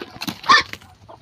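A few short clucks from a mother hen, close by, with one louder squawk in the middle of the brief burst.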